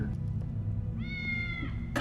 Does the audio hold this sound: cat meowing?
yes